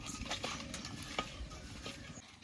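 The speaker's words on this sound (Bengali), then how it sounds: "এবার মাছটাকে ভালো করে মাখিয়ে নেব" Katla fish pieces being rubbed and mixed by hand with salt and turmeric, producing continuous soft wet squelching and patting with scattered small clicks, fairly close and steady.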